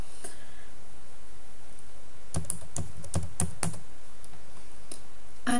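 Password being typed on a computer keyboard: a burst of crisp, close keystrokes in a quick irregular run, with a few scattered taps before and after, no voices.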